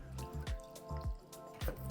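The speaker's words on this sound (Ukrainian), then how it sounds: "З хліба обираємо шкоринку і замочуємо в воді." Water drips and squishes in a quick, irregular series of soft wet plops as bread crust soaks for fish cutlets, quiet and close with no talking.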